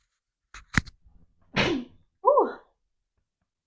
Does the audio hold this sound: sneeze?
yes